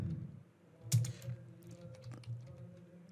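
Keys clatter on a computer keyboard in a short run of uneven keystrokes, close and fairly soft, with no one talking.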